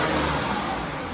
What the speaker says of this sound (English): Now I'm going to snap the throttle. And of course, it's going to definitely misfire.